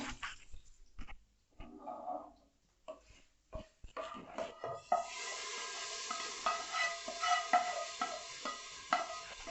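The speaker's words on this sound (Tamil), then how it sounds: "இப்போ பொங்கலோடு சேர்த்து கிளற போகிறோம்." Sautéed seasoning with curry leaves being stirred into pongal in a pot: irregular scraping and stirring strokes at first, then a steadier, busier churning with soft sizzle, close and fairly quiet, with no talk.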